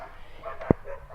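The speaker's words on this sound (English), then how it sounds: "don't mind the dogs barking" A single short, sharp dog bark rings out once amid low background noise in a home garage during work on an Audi A3 8V 2.0 TDI.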